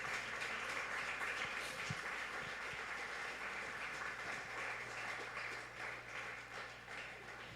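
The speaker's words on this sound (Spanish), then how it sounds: "Denle un aplauso al Rey de Reyes." A congregation in a church claps for the King of Kings, a faint, steady patter of many hands heard from a distance without a break.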